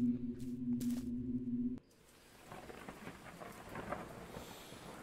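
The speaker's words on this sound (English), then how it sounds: "How will my broken boat handle the storm?" A thunderstorm in a video game with a broken boat on the water: a loud game tone cuts off, then steady rain and low rumbling thunder swell gradually, with no talk.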